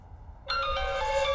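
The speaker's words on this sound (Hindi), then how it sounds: "अरे भाई का फोन आ रहा है यार" A phone's electronic ringtone starts abruptly after a short quiet stretch and holds bright sustained chiming tones, loud and close, with no talk over it.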